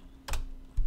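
Two short bursts of typing on a computer keyboard, a quick cluster of keystrokes followed by a second brief tap, close and fairly loud over a quiet steady hum.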